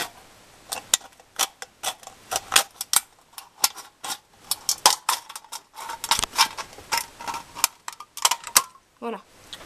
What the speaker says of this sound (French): je vais continuer avec la paire de ciseaux